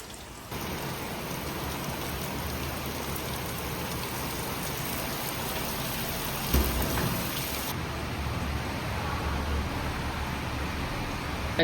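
Steady rain pours outside on a monsoon day, a continuous dense hiss of drops on surfaces that stays loud and even throughout, with an occasional faint knock and no talking.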